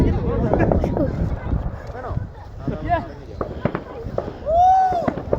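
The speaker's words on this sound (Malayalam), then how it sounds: "ഇതിപ്പോ നമ്മുടെ പടക്കമാണ്." New Year fireworks and firecrackers go off nearby in a rapid series of sharp pops and bangs, with one rising whistle late on, while several people talk and call out throughout.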